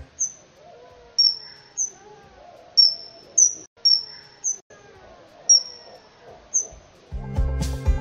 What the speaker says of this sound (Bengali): বাদুড়ের ইকোলোকেশন